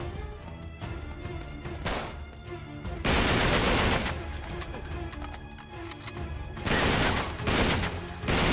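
Gunfire in Uncharted 3: Drake's Deception comes as loud, dense fusillades: sustained bursts with short lulls between them, then a second heavy barrage toward the end.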